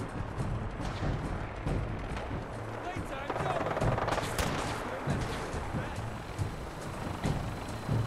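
Synths fire guns at a gunner vertibird in Fallout 4, a dense stream of rapid gunshots and bursts that stays steady and fairly loud through the whole stretch, with a heavy rumbling combat din underneath.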